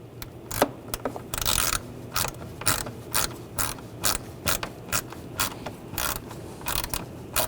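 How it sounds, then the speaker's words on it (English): Ratcheting T25 socket driver backing a screw out during water pump replacement on a 2009-2017 Volkswagen Tiguan, a series of close, quick rattling clicks in short bursts with brief pauses between strokes. "Now I'm going to use a T25 socket or bit"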